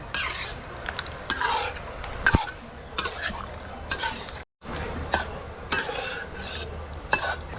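Braised pork belly in a thick, spicy sauce stirred in a pan, with close, busy scraping and clinking of a utensil against the pan in bursts and one brief silent gap.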